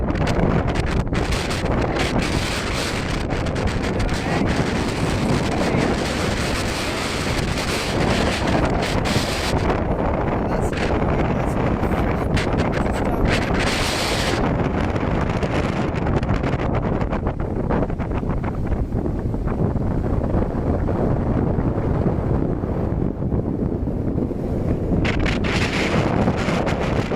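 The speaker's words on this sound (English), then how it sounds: "Very, very windy." Strong gusts of wind buffet a handheld phone microphone outdoors, a loud, continuous roaring rumble that rises and falls over nearly half a minute with no talk.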